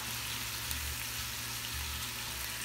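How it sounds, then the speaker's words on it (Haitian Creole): Chicken sauce with tomato paste frying in a pot, giving a dense, continuous sizzle that holds steady and close with no talk. "Kite l fwi."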